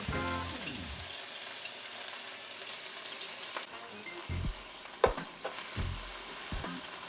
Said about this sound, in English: Just be careful, of course, because when water meets oil, it's gonna sizzle a little bit